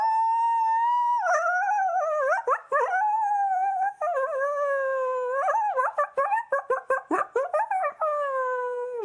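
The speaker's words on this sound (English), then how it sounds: "So you can see them howl and you can see the behavior they're exhibiting." Wild coyotes howl together, a rising and wavering chorus that breaks into rapid yips and quavering barks toward the end, loud and close with no talking.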